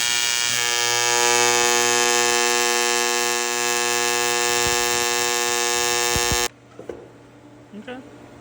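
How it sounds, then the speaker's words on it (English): MIG welding aluminum with 1/8 5356 wire: a loud, steady buzzing hum with a strong tonal drone that runs for about six seconds and then cuts off abruptly, leaving faint clatter. "I think I'm gonna do a quick weld on here, just make sure my machine's okay, with some 1/8 5356 wire."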